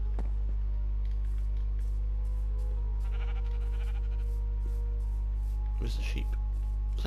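Sheep bleat in a video game farm setting, short bleats heard over a constant loud low hum and background game noise, with a voice talking alongside.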